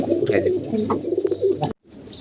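Racing pigeons coo close by in low, throaty rolling calls that run continuously for under two seconds before stopping abruptly, leaving a faint background.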